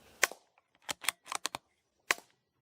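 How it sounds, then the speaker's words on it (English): Two suppressed .22LR rifle shots fired into dirt with a Banish 22 suppressor, heard as sharp, quiet cracks about two seconds apart, with lighter clicks of handling or the action between them in an otherwise silent outdoor setting. "All right, now 2 in the dirt with the Banish 22."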